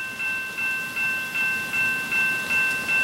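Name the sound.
N scale model train running past on track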